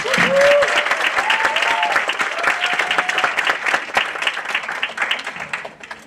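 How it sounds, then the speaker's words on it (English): A crowd at a youth tech expo for the International Day of the Girl Child applauds a UNFPA representative, a loud, sustained burst of clapping that gradually thins toward the end, with a few voices calling out near the start. "Please give him a round of applause."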